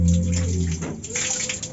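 Shower water running in a home bathroom, a steady rushing splash lasting the whole stretch, with a brief low tone at the start and faint movement underneath.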